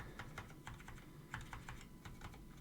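Cherry MX keys on an Amiga 2000 keyboard pressed in a quick, uneven series of soft clacks, close up and fairly quiet over low background hum.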